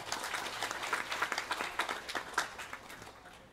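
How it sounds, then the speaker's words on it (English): Applause from a gathering at a Sunday satsang for an annual youth camp, a steady round of clapping with sharp individual claps standing out, moderately loud and lasting several seconds. "Give them a round of applause."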